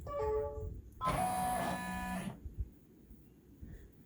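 Embroidery machine running a decorative stitch on a zippered bag in the hoop, a brief mechanical whir with tonal hum lasting about a second, preceded by a short tonal beep and followed by quiet.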